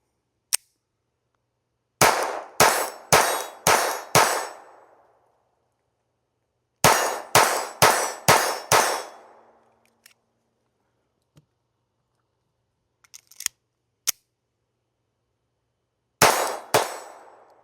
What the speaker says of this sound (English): I'm going to shoot 5 rounds, pause for a second, and then shoot the other 5 rounds